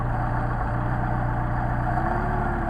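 Mercedes 190SL engine idling on Solex carburettors, a steady, continuous low rumble up close with a slight drop in pitch near the end, no talking.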